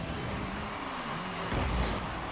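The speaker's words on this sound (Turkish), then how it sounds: "Gaz veriyoruz şimdi. Nitroyu açalım." Rocket League car accelerating with nitro boost, a steady engine drone and whoosh that swells louder partway through as the boost kicks in.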